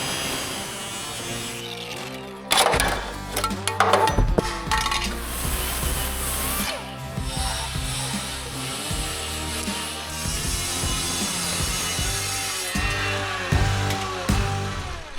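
A power saw cutting out metal from the rocker area of a worn $5,000 Jeep, a harsh buzzing, grinding cut with abrupt metallic bursts and clanks, loud and close, continuing steadily with no talk.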